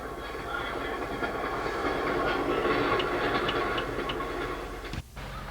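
A train rolling along a Pennsylvania Railroad line near Rancocas, heard as a steady, loud rumble with faint rhythmic clicking from the wheels, which drops off abruptly near the end.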